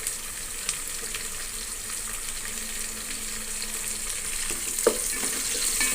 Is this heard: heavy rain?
no